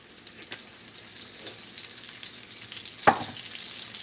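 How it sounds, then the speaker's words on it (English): Chicken and broccoli sizzling in olive oil in a hot pan, a steady crackling hiss with one sharp clatter partway through. "All right, let that sizzle."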